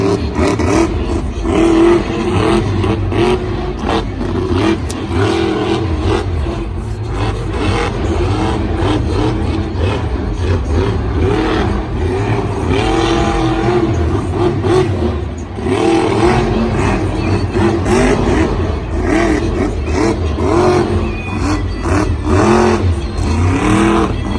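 A monster truck engine roars and revs hard through a racing run at a Monster Jam event in Santa Clara, loud and sustained with surging pitch changes over crowd and arena noise.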